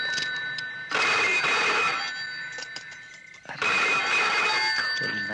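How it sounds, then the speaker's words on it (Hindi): A telephone rings at night in two long trilling bursts separated by a short pause, loud and near in a quiet room. "ये साले अमीर लोग रात को किसको फोन करते हैं?"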